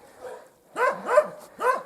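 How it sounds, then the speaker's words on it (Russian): A dog barks loudly and repeatedly in a rural village yard, several harsh yelping barks in quick succession after a softer opening whine, close to the microphone. "Айда там громко голосит тоже."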